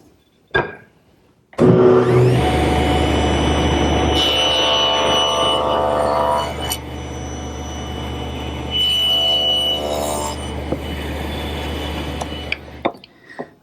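A power saw cuts a short piece of wood at a 45-degree angle while it is clamped down in a woodworking shop. A loud motor whine and the rasp of the cut run steadily for about eleven seconds after a brief start-up, then stop.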